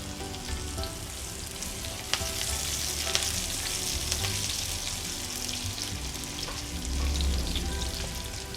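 Tadka of green onion, green chili and garlic fries in hot oil, a steady close sizzle with occasional pops and stirring scrapes, running continuously without talk.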